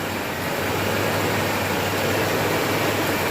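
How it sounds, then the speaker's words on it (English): A Ford 460 big-block 7.5L V8 idling in a 1984 F250 4x4, a loud, steady low rumble with constant broadband roar and no change in pace, heard close and alone. "She's running, she's idling. Listen to that kitten purr"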